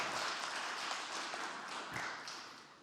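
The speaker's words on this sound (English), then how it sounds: "Let's give Michael a big round of applause." An audience at an MIT pitch competition finale claps in a steady, distant wash of applause that fades slightly toward the end, with no voices over it.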